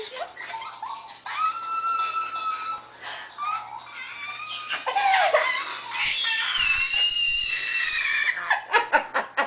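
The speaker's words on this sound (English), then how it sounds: "You're funny just screaming." A baby bouncing in a jumperoo lets out high, shrill screams and squeals, bursting in short runs and then building into a long, loud, sustained shriek near the end, very close, with no talk.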